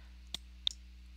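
Two crisp mouse clicks sound about a third of a second apart, close and soft, over a faint steady electrical hum.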